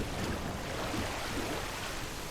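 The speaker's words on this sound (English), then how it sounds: "I can hear running water." Running water from a drain in the video game DrainSim: a steady, even broadband wash with no clear pauses, moderately faint and heard alone.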